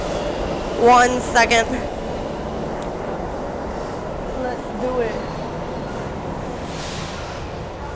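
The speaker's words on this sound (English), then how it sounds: "So this is the B train." A New York City subway B train rumbles at a station, with a steady low mechanical drone, a couple of squealing brake or wheel tones early on, and someone talking briefly over it.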